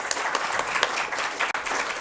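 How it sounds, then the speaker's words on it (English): A seated audience at a University of Louisville event applauds a panel with steady, dense clapping that fills the room evenly from start to finish. "join me in giving them another round of applause"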